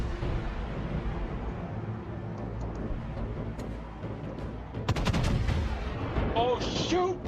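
Naval guns fire from the American heavy cruiser USS Indianapolis (CA-35) in World of Warships, a dense rumbling barrage with a sharper loud blast near the end, steady and close throughout.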